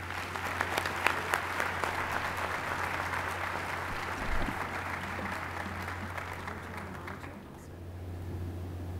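Audience at the West Virginia School of Osteopathic Medicine 2014 commencement applauding to welcome a speaker, dense sustained clapping from a large crowd in a hall, fading slightly near the end.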